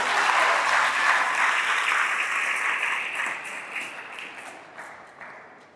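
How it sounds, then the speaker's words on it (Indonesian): An audience of young people claps at a youth gathering in NTB, with a broad wash of applause that starts full and steady and then slowly fades over several seconds. "Tepuk tangan dulu untuk mereka dua."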